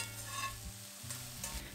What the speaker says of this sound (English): I want to flavor the eggplants a bit more, so I decided to stir fry